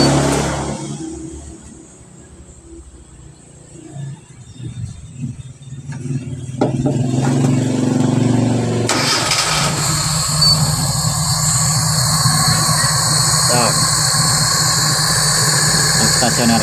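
A Suzuki T120SS fuel-injected motorcycle with a high-idle fault is started and settles into a steady, close idle after a short stretch of quiet handling noises.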